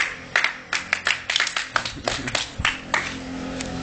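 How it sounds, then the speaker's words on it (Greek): Scattered hand claps ring out near a bicycle balance and trick session, a small group clapping in an uneven burst of sharp slaps that thin out toward the end, with no speech over them. "Χειροκρότημα, ρε."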